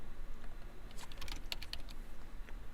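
Brief burst of keystrokes on a computer keyboard, a quick cluster of light clicks lasting about a second, close and fairly quiet against a steady background hum.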